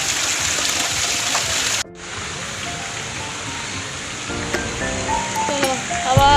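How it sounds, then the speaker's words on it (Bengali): Water falls steadily from above at a Shiva temple in Bandel, a continuous bright hiss that cuts out briefly and resumes, with faint tonal sounds and voices rising toward the end. "জল পড়ছে"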